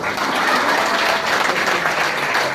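A congregation at a Christmas church service in Penang bursts into loud, close applause, a thick continuous clatter of many hands that stays strong throughout the short stretch without speech.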